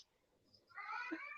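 A pet cat gives a single drawn-out meow, fairly quiet and close, after a near-silent stretch, with no speech over it.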